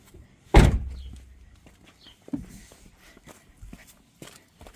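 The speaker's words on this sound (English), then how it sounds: "Let me close this door." A 2013 Mustang GT car door shut with one loud, close thud, followed by a lighter knock and faint shuffling movement inside the car.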